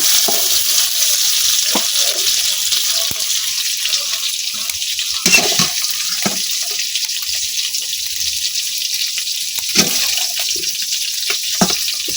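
Meat fries in a pan in a village kitchen, giving a steady hissing sizzle with occasional stirring scrapes and clicks.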